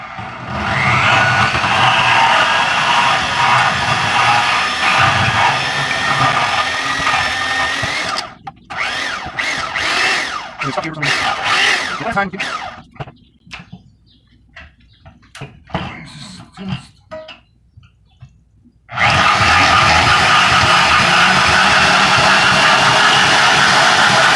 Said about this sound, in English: my DeWalt bandsaw. Let's cut these ends right off.